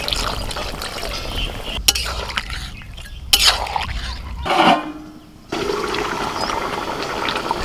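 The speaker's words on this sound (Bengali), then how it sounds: "এখন এর মধ্যে আমি জল দিয়ে দেবো, একটু গ্রেভি করার জন্য জল দিয়ে দিচ্ছি।" Water is poured into a big pot of browned chicken to make gravy: a gushing, splashy pour with sizzling and stirring clatter, a brief hiss, a short near-quiet gap, then a steady bubbling sizzle.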